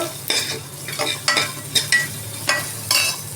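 Whole spices — pepper, cinnamon, cloves, sesame, cardamom and fennel seeds — dry-fried in a pan for sambar, with about seven bursts of stirring scrapes and rattles in an uneven rhythm, close and fairly loud, no talking.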